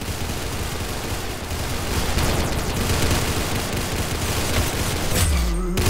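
Gunfire in the Roblox game Arsenal: a dense, continuous barrage of rapid shots at close range, loud and unbroken for several seconds, then a brief low rumble at the end.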